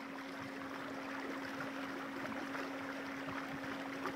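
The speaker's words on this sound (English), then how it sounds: "cruise along in our boat along the shores of Hallstatt." A motorboat engine drones steadily with a constant low hum, over a wash of water and wind noise as the boat cruises along the shores of Lake Hallstatt.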